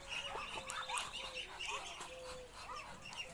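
Chinese ducks on a farm in Assam give repeated short, nasal honking calls that overlap in an uneven rhythm, moderately distant and fairly faint.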